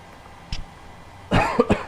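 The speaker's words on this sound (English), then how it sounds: "Trying to cough in the microphone." Two or three bursts of dry, raspy coughing from someone with a lingering residual cough, close to the microphone, the first short and isolated and the others in a cluster near the end.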